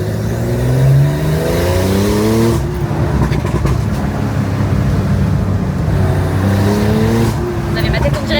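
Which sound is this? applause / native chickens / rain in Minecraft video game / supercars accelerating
supercars accelerating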